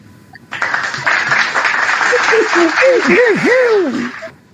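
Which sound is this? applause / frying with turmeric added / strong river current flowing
applause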